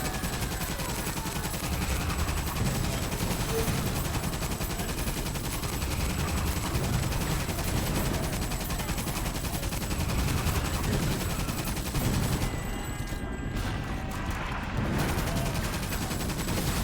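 Gunfire in the Xbox game Toy Soldiers: Cold War, a continuous dense barrage of rapid shots and explosions running without pause, loud and busy throughout.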